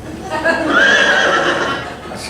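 A horse neighs loudly at close range in one sustained whinny, with a stage play's people talking around it.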